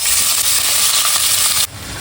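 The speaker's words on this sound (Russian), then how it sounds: "Обжариваем говядину на большом огне максимальном" Beef chunks with fat fry over high heat in a roasting pan, giving a loud, steady hissing sizzle that drops slightly in level near the end.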